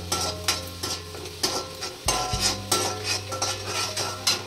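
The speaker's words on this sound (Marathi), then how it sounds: "लसूण चांगला भाजून द्यायचा आहे।" Garlic and ginger fry in a pan for street-style chicken Schezwan fried rice, with a steady sizzle broken by repeated metal utensil scrapes and clanks against the pan, close and fairly quiet.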